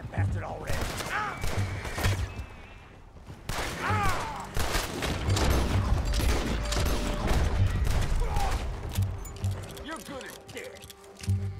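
Gunfire in Red Dead Redemption 2, a fusillade of shots and thuds building mid-stretch amid a tense scene, heard under and between frequent spoken dialogue.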